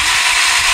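A Saker battery-powered mini chainsaw runs close by with a loud, steady high-pitched motor whine for a brief moment, with no other sound present.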